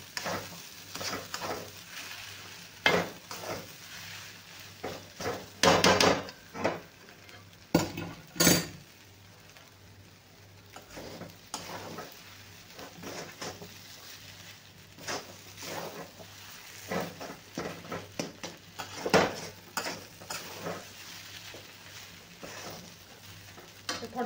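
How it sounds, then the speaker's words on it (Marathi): Salt is stirred into upma made from semolina in a hot pan. A spoon gives soft, intermittent scrapes and taps against the pan, with a low sizzle underneath and a few sharper metallic clinks. "आता आपण याला हलवून घेऊया. मीठ चांगलं एकजूट करून घेऊ आपण."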